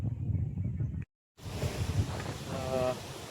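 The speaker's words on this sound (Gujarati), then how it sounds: "અચાનક જોરદાર પવન ઉપડી છે" Strong sudden wind blowing across a farm at midday, loud rumbling gusts hitting the microphone, broken by a brief dropout, with a faint voice and a short tonal sound near the end.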